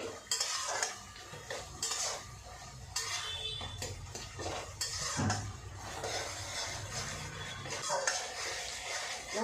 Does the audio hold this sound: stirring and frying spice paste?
yes